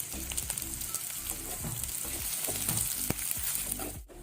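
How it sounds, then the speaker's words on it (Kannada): Onion, garlic and curry leaves fry in oil in a pan with a steady close sizzle and crackle, broken by a few sharp pops and light stirring, with no talk. "ಇದನ್ನು ನಾವು ಲೈಟ್ ಕೆಂಪಾಗೋ ತನಕ ಫ್ರೈ ಮಾಡ್ಕೊಳ್ಬೇಕು ಎಣ್ಣೆಯಲ್ಲಿ"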